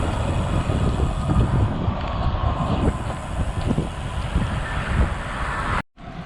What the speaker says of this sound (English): today the wind is out of the southwest, and it is chilly coming off of the lake